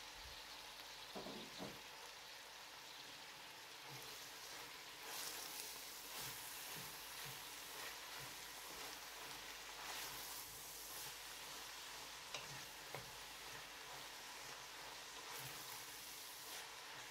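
Carrots frying in a pan over medium heat for a Kazakh winter cabbage salad give a soft, steady, low sizzle with occasional faint clicks of stirring, and no one talks.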